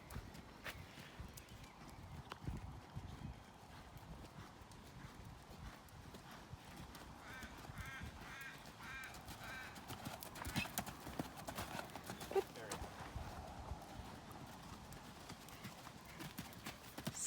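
Horse cantering toward a show jump, muffled rhythmic hoofbeats on an arena surface heard at a distance under faint outdoor wind and background noise.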